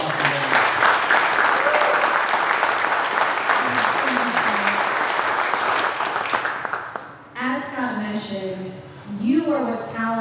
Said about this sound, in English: give a big round of applause for that